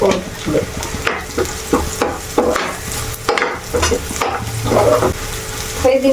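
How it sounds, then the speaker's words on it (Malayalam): Ingredients for a Kerala curry fry and sizzle in a pan as they brown, with repeated scraping stirs of a spatula breaking up the steady crackle. "ഒക്കെ നല്ലോണം ബ്രൗൺ കളറായി മൊരിഞ്ഞു മൊരിഞ്ഞ് വരുന്നുണ്ട്"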